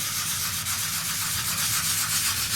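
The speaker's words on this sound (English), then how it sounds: "Just as long as you use this 400 sandpaper," Continuous rough scrubbing of 400-grit sandpaper taped flat to a cutting mat, a steady close hiss with no voice, as a fragile King Tiger model part is sanded.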